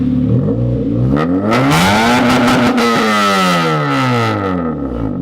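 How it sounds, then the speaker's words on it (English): An Acura RSX engine with an aftermarket header revs up and back down with a loud, rumbling exhaust, close by, its pitch rising and falling. "We finished up his exhaust. You guys heard it."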